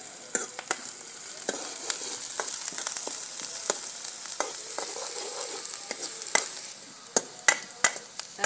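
Onion, chili and garlic fry in a pan, a steady hiss of sizzling oil with scattered sharp crackles and spits, plus occasional scrapes of stirring, close and fairly quiet throughout.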